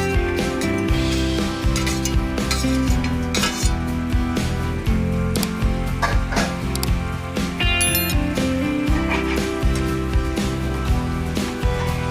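Manchurian balls frying and being stirred in a pan, with frequent sharp clinks and scrapes of a metal utensil against the pan over a continuous sizzle, close and busy throughout.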